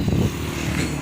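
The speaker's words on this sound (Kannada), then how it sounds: "ನೋಡ್ಬೋದು ಬೈಕ್ ಎಲ್ಲ ಬರ್ತಿದೆ" A motorcycle rumbles along a village road past a temple, its low engine drone steady and fairly close for the whole moment, with no voices over it.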